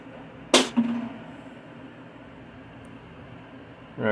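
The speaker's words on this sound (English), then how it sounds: "That was just a water bottle that fell down" A water bottle falls down in a quiet room with hum in the background, landing in one sharp thud with a short bounce after it. Another bump follows near the end.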